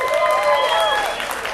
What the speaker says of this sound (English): And one more big round of applause for the cast of the Blair Witch Project.